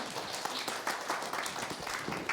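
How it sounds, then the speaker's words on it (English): Audience members at a body language talk show applaud after a question, a brief, fairly dense spatter of clapping at moderate distance with no speech over it. "round of applause for her question."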